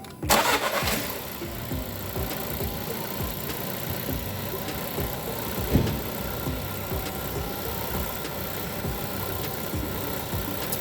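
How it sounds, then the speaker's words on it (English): A VW Polo engine cranks and catches right at the start after new spark plugs, then settles into a steady, fairly loud idle that rumbles on alone. "Just about to start the car."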